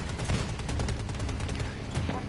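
Gunfire fills a Battlefield 2042 match, with a dense, loud burst of rapid shots and explosive cracks packed into a couple of seconds and hardly any pause.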